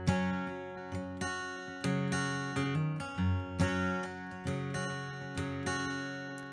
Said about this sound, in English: To start this song off, we play a hammer-on